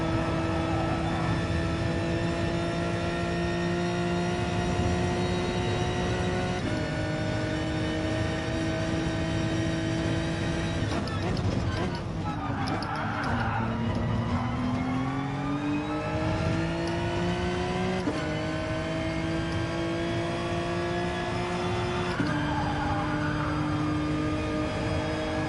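Race car engine from the cockpit in Gran Turismo Sport during an overtake, a constant loud whine that climbs and drops as the gears change, with no talking.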